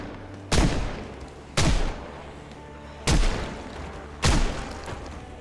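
Four loud revolver shots in the zombie survival game Project Zomboid, evenly spaced about a second apart, each a sharp crack with a lingering echoing tail.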